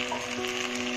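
Prawn curry ingredients fry in a pan with a steady, close, hissing sizzle that stays even through the brief moment, with no talking.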